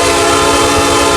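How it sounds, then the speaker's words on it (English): A loud, sustained multi-tone train horn in Train Sim World blares continuously, steady and close, with a low rumble beneath. "That horn sounds so godly."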